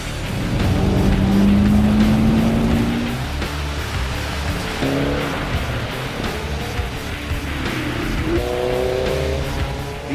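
Mitsubishi Evo 10 and Subaru WRX STI demo cars drive by with engines revving and rising in pitch through gear changes, loud and close, one car following another.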